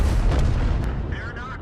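Tank cannon in an online tank battle game, a heavy boom fired once at the start, loud and close, followed by a fading rumble and faint metallic whine.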